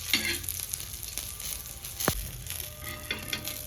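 Green chillies roast in a pan for a Marathi thecha, giving a steady low sizzle with faint crackles and one sharp pop near the middle, close and unvoiced.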